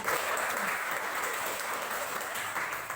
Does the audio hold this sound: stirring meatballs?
no